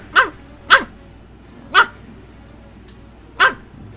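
A dog named Tucker barks five times in sharp, loud, spaced yelps, two close together, then two more after longer pauses, with near silence in between.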